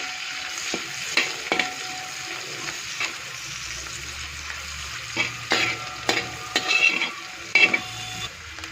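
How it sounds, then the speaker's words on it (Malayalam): Onion with cardamom and cloves frying golden in a pan, a low steady sizzle broken by repeated stirring scrapes and utensil clicks against the pan. "ഏലക്കായും ഗ്രാമ്പും ഒക്കെ ചേർത്ത് കൊടുക്കും. സവോള ഒരു ഗോൾഡൻ കളറായിട്ട് തന്നെ, കരിഞ്ഞൊന്നും പോകരുത്."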